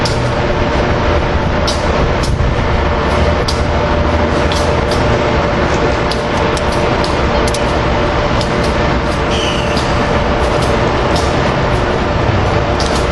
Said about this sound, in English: And this is a trash unit train.